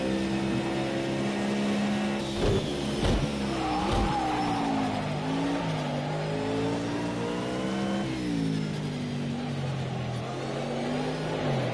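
Race car engine in Project CARS 2 held at high revs and full throttle, loud and continuous throughout, with pitch sweeps through gear changes and brief dips from lifting off the power.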